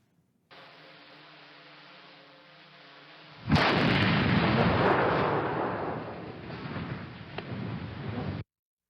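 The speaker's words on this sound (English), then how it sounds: "The video here is an example of what could be generated from a vapor cloud explosion." Vapor cloud explosion from a gas or fuel leak, set off as a test: a low steady hum, then a sudden loud blast followed by a sustained, dense roaring rumble that slowly eases off.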